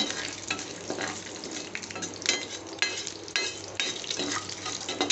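Chana dal fries in hot oil in a pan, a dense, continuous close sizzle with stirring scrapes and crackles throughout, no voices.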